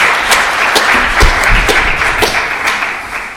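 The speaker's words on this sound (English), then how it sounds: "Brief round of applause for Professor Thompson." A lecture audience at a hospital grand rounds gives a short round of applause for a professor, loud and steady clapping from many hands that tapers slightly toward the end.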